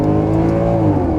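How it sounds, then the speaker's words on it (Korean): A Maserati GranCabrio's naturally aspirated V8 exhaust roars loud and steady, a deep sustained rumble with a smooth held tone and no talk. "이거 배기소리 엄청 크지 않아요?"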